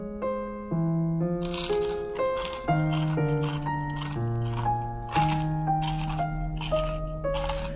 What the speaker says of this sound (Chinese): 我们来尝一下看看，非常的好吃，听一听它酥脆的声音